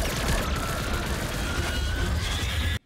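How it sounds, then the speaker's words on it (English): Phaser fire from Star Trek: Discovery, a loud dense barrage of energy weapon blasts and rumbling effects that fills the whole stretch and cuts off abruptly. "Fire phasers to draw it off!"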